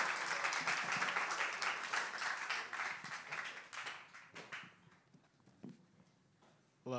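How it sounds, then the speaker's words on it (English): A middle school worship congregation at church breaks into steady applause that holds for about four seconds, then thins into scattered claps and fades to near quiet, with a brief sound returning at the very end. "Let's give a big round of applause to Nathan as he comes up."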